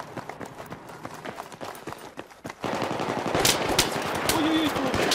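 Gunfire in Battlefield 3 on the Metro map crackles in rapid bursts, growing louder and denser halfway through, with a busy mix of game sounds underneath.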